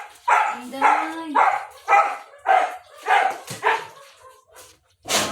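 A dog barks repeatedly in a steady series of about eight sharp barks, close by, with a brief whine near the start.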